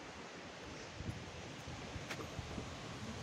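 Wind gusting outdoors in windy weather, a continuous rushing roar buffeting the microphone with small knocks and rustles, fairly loud and unbroken, with no speech.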